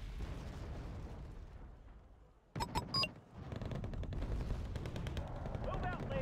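Video game gunfire crackles in a dense burst of rapid shots mid-clip, surrounded by continuous loud action noise and explosions, with someone speaking over it.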